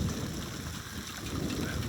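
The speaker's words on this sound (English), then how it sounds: "I love thunderstorms." A summer thunderstorm in the Sonoran Desert rumbles as a dense, steady wash of low noise with wind buffeting, continuous and fairly close without any distinct clap.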